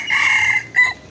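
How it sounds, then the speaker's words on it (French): A rooster near Bang Tao Beach in Phuket, Thailand, lets out a loud, close crow, a drawn-out strained call followed by a short final note. "Ah, il y a un coq là, on ne sait pas pourquoi."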